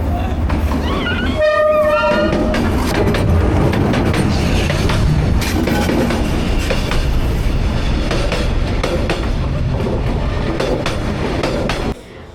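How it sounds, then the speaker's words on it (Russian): A train passes along rails laid through a narrow street in Hanoi, a loud close roar of cars and wheels with a brief horn toot early on, filling the whole stretch before cutting off abruptly. "Здесь проложены рельсы, и несколько раз в день проезжает самый настоящий поезд."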